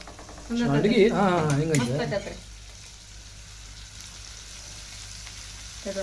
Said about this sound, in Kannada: ಒಂದ್ ಐದ್ ನಿಮಿಷ ಎಣ್ಣೆ ಒಳಗ ಫ್ರೈ ಆಗ್ಲಿ